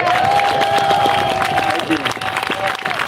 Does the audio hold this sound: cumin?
no